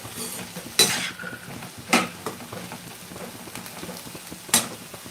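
Green chickpea ghoogni mixed in a pan, a low sizzle under repeated scraping and clinking of a spoon against metal, with a few sharper strikes standing out, close and moderately loud.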